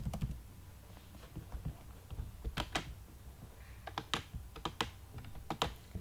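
Fingers type on a computer keyboard with quick, irregular clicks and taps at close range, entering an email address into a web form in a quiet room.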